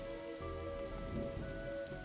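Steady rain falls on a rooftop in a detective video game, a soft continuous patter heard alone under low tonal hums.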